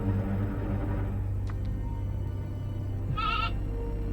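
Goats in a goat pen, with one clear wavering bleat late in the clip over a low steady hum, plus a couple of faint brief sounds earlier.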